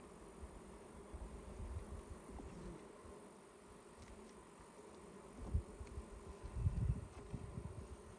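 Honeybees drone around a struggling hive bringing in little nectar, a faint continuous buzz with soft low thumps and rustles near the end, no talk.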